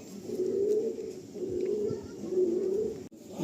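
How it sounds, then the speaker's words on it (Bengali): Fancy carrier pigeons cooing in a loft, three soft, low rolling coos in a steady rhythm, fairly close against faint background noise. "এই একটা পায়রা দেখুন, এটাও মালবাহী পায়রা তো"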